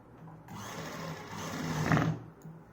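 Sewing machine stitching palazzo fabric, a steady close mechanical whir running for about two seconds and building slightly louder before easing off, with no talking.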